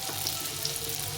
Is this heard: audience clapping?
no